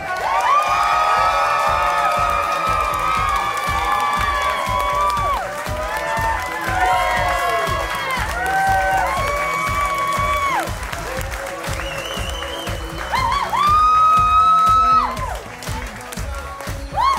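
Wedding reception guests applaud, cheer and whoop for newlyweds Mr. and Mrs. Smith, a dense, steady crowd roar lasting throughout, with loud tonal music playing over it.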